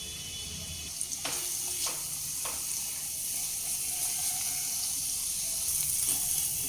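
Spice paste of chilli and coriander powder with a splash of water cooks in a pan over medium heat, giving a steady, close sizzling hiss with a few light clinks.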